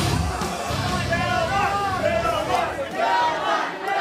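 Wrestling arena crowd at a Mistress Belmont versus Uncle Eddie match, a dense roar of cheering and babble filling the whole stretch at steady loudness, with voices shouting over the din.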